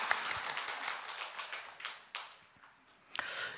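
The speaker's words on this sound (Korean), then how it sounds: "하나님께 영광의 박수 올려드리겠습니다." Scattered, fairly faint clapping from a church congregation at a Sunday morning service, uneven and thinning out with a few sharper claps near the end.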